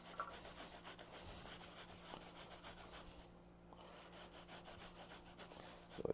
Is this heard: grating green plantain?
yes